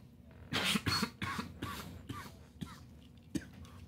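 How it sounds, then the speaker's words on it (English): A quiet series of short coughs and throat-clearing sounds, several rough bursts close together followed by softer ones. "I'm going to be coughing quite a bit"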